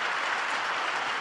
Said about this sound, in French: C'est une ovation dans la salle du MEDEF